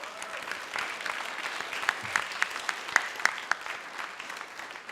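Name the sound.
audience applause at high school graduation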